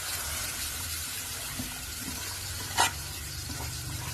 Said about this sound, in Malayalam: നല്ലോണം നമ്മൾക്ക് ഇളക്കി കൊടുക്കുക